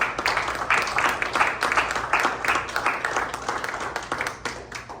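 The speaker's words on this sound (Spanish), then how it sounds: "De un aplauso a la presencia de Dios." A church congregation claps together during a service, with uneven bursts of many hands that swell and dip in rhythm and fade slightly toward the end, with no talking over it.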